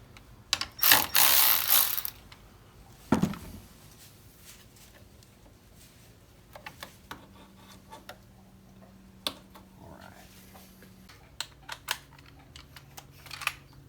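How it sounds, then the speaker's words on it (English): A ratchet wrench works loose the negative battery terminal on a Ford Explorer with a 3.5 engine, giving a loud burst of fast clicking, then a single clack and scattered faint ticks and clinks of tool handling nearby, with no talking. "go ahead and get the negative battery terminal off"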